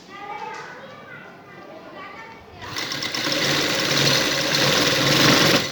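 A sewing machine stitches along the edge of a neck design using a double foot, its whir starting softly then running loud and steady after a few seconds, with a voice and faint talk in the background.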